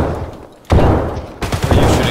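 Loud, close gunfire in Escape from Tarkov, two sudden heavy bursts of rapid shots that strike after a quieter moment and ring on, with no clear talk.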